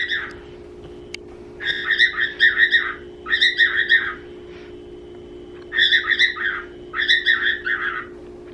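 A pet bird squawks and chirps in rapid bursts of harsh, buzzy calls, repeated in clusters with short pauses between, close and loud over a steady low hum.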